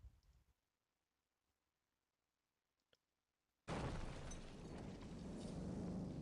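An in-game blast as a SAM site is destroyed in the naval and air warfare simulation Command: Modern Operations; near silence with a faint click, then a sudden loud explosion rumbling on to the end.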